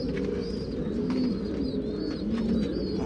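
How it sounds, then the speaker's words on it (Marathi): A flock of over a hundred pigeons coos in soft, repeated rolling calls over a steady background hum, close by and continuous. "आज तुम्हाला समजेल किती कबूतर आहे बसायला जागा पुरत नाही"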